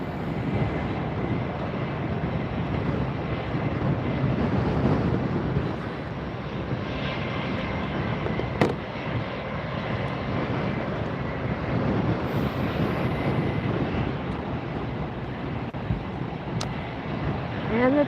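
A JetBlue airliner turns into position for takeoff at Fort Lauderdale, its engines giving a steady, broad roar at moderate distance, with gusty wind buffeting the microphone throughout.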